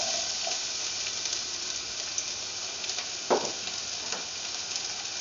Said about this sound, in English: Now the oil is hot, so do the garlic.